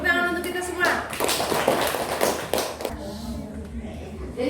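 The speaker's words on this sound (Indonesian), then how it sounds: "Tepuk tangan untuk kita semua." Scattered clapping from a classroom of students, uneven and partly sparse, with voices talking over it before it thins out into quieter room murmur.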